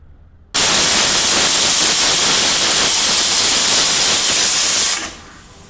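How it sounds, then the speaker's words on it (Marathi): A pressure cooker on the gas cooking tomatoes lets out a loud, sustained hissing whistle. It starts abruptly, holds steady for about four and a half seconds, then dies away quickly. "गॅसवरती कुकर ठेवून कुकरला एक शिट्टी काढून घ्यायची आहे"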